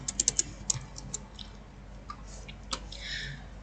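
Computer keyboard typing while entering a formula in an Excel spreadsheet, a quick burst of light clicky keystrokes followed by a few scattered taps, close and quiet.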